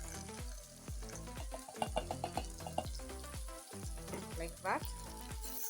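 Tomatoes fry and sizzle in a pot of carrots for a yellow bean stew, a steady crackle broken by clattering stirs and scrapes, with a brief spoken remark.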